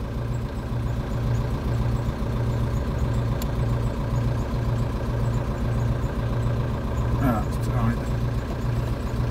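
A diesel engine idles steadily, a low throbbing rumble with a regular pulsing beat that holds unchanged throughout, with no talk over it.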